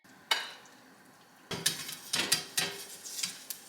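Maple sausages drop into a hot pan with a sharp hiss, then a few short bursts of sizzling spit and pop close by, with soft clinks of the pan between them.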